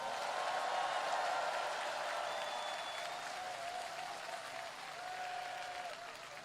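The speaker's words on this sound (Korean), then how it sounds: "격려의 박수 부탁드립니다." A large outdoor crowd claps continuously at a presidential election campaign rally in Ansan, Gyeonggi Province, steady dense applause with faint tonal noise drifting through, no voices on top.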